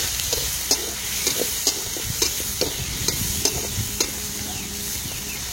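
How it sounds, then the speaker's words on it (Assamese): Onions fry in hot oil in a home kitchen, with a steady sizzle and regular clicks of a stirring utensil, close and moderately loud, with no speech. "এইফালে পিঁয়াজ তেল ধুনীয়াকৈ দি অকণমান ভাজি দিম এতিয়া"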